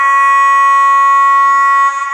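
A Zimo MX648P16 sound decoder in a model locomotive, fitted with a speaker enclosure, sounds a loud, steady, high electronic horn-like tone for about two seconds before it cuts off.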